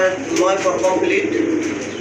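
A pair of black-lace shirtin pigeons coo steadily in soft, throaty rolling pulses, close by, with voices talking over the birds throughout.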